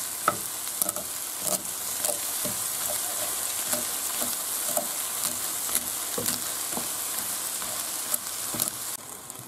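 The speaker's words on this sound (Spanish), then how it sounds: "ahora echamos las cabezas de las gambas y tenemos que aplastarlas para que echen todo su jugo" Prawn heads sizzle in a frying pan, a steady crackling hiss punctuated by regular tapping and scraping as a utensil crushes them against the pan's surface.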